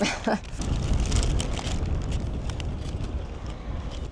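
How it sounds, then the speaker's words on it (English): Strong wind buffets and roars across the microphone outdoors in Bari, Italy, in a steady, rumbling gust, with no one speaking. "Suddenly it's very windy."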